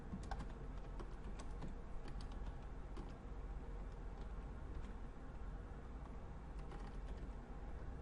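Steady keyboard typing on a computer while entering a game title for a PS2 classics save file, with dense continuous clicks over a constant low background hum, no voices.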